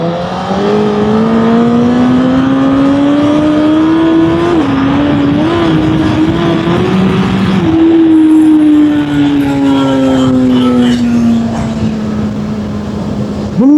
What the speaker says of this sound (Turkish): Birazcık gaz çekelim şöyle